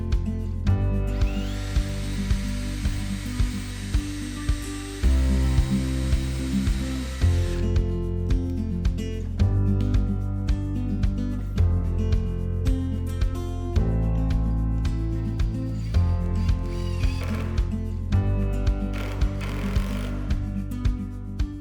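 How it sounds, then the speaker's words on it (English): A power drill drives a screw into a wooden table saw jig for a T-Glide Advance rip fence, the motor whirring in loud bursts with pauses and shifts in pitch as the screw bites and seats. "Now that we've got it squared to the table, I want to put a screw in at the top."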